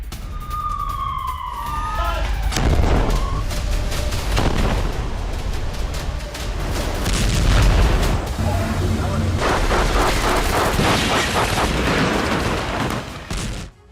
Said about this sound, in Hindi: रिहायशी इलाके में आईडीएफ ने यह बमबारी की है